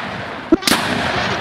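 Two sharp shotgun blasts in a video game match, a short crack followed by a louder broadband boom, over steady game background noise.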